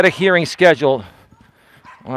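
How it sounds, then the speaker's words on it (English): A couple of dogs fighting or playing give loud, close yips and whining cries in quick bursts, then fade to quieter sounds before another cry starts. "there's a couple of dogs here fighting"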